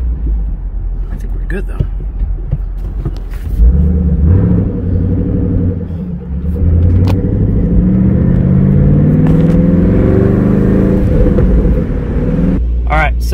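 Ford Shelby GT500 fitted with a Mcleod RXT clutch backing up, its engine rumbling loud and close with rising and falling revs, while someone talks over it.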